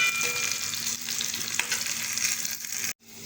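Onions frying for sambar until browned, with a continuous close sizzle and occasional stirring under it, cut briefly by a short dropout near the end.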